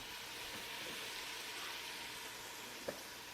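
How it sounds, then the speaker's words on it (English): Meat for jambalaya sizzles steadily in a hot pan with a dense, even frying hiss. One brief utensil tap sounds near the end, and no one talks. "Our meat is getting nice and sauteed, getting a nice little color on it"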